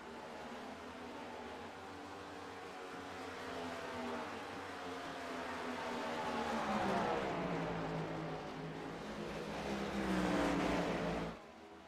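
Race cars lapping a circuit during a race, a continuous engine drone that swells as cars sweep past, rising in pitch and loudness before cutting off abruptly.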